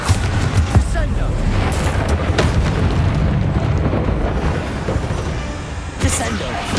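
Descendo spell impact in the Hogwarts Legacy video game, with loud booming, explosive bursts and crackling blasts among dense combat noise, and a voice speaking over it.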